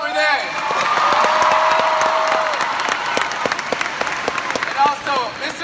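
Audience applause for a band at a Hearts on Fire event, sustained clapping from a crowd throughout with a voice and cheers over it, holding steady before thinning slightly near the end.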